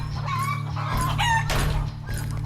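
Chickens on a rural Mapuche family farm cluck steadily while a rooster crows in long, rising calls over a constant low background hum, fairly close and clear.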